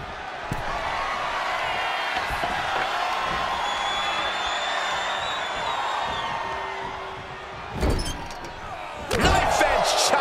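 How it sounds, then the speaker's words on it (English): A knife edge chop in the wrestling game WWE 2K24 cracks sharply inside an arena during an NXT event, ringing out once near the end over a steady roar of crowd noise, followed by another loud impact. "Knife edge chop echoing through the arena."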